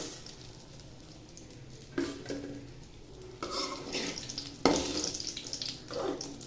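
Eggplant cooks in oil for a Chettinad-style spicy tamarind curry, giving a soft, steady sizzle broken by a few louder stirring bursts. The sound is close and moderate, with no talking.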